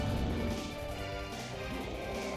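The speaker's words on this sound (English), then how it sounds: "slashing the Dark Dragon Blade" The Dark Dragon Blade shatters in a Castlevania: Order of Ecclesia cutscene, giving a loud crashing smash that opens the moment and then trails into a dense ringing clatter of breaking debris.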